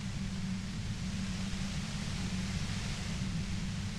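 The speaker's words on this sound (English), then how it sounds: "You hear through the white noise. It's especially bad suddenly." A steady wash of white noise from the video game Disco Elysium hisses evenly and continuously, with a low rumbling layer beneath, unbroken and without voices.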